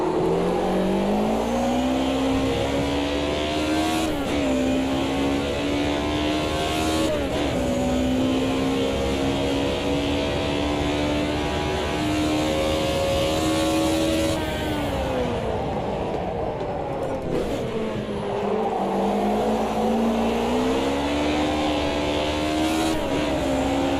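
Race car engine in the video game Automobilista 2, droning steadily and loud throughout, pitch climbing through gear changes and sinking as the car brakes hard into corners before revving up again on the exit.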